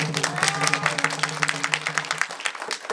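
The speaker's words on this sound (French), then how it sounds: "on peut l'applaudir s'il vous plaît" Audience clapping for a child during an African storytelling and song event in a neighborhood gathering, brisk steady applause with a faint hum underneath, fairly close and continuous before tapering off.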